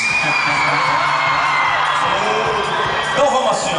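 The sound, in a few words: crowd of girls shouting and cheering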